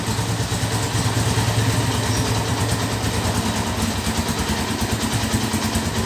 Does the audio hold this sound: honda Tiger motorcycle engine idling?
yes